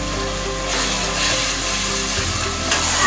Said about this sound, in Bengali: ভালো করে মশলাটা কষাবো যাতে তেলটা ছেড়ে যায়